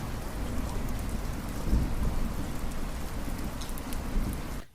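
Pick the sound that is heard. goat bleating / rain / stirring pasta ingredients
rain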